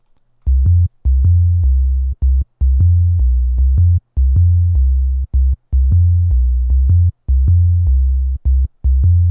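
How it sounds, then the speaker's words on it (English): A smooth, deep sine-wave synth bass plays a rhythmic line of short repeated notes with brief gaps, some notes gliding into one another, in a 90s N64-style ambient jungle track. "This is actually just a sine wave bass"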